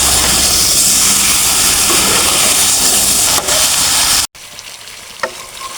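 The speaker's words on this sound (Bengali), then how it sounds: "করে নেড়ে কষিয়ে নেব।" Country chicken meat sizzles loudly and steadily in a pan of hot oil and rendered fat while being stirred, then drops abruptly to a quieter sizzle with a faint clink near the end.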